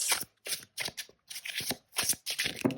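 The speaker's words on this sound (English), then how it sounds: "this is a very slippery deck, so I'm just going to keep shuffling" A slippery tarot card deck is shuffled by hand, giving quick riffling bursts of card flutter, about eight short rustling strokes in close succession, near and clear.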